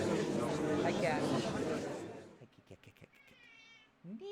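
A cat meows in Phoenix Wright: Ace Attorney - Justice for All, thin cries standing out after a stretch of dense, noisy game audio, with a voice coming in at the end.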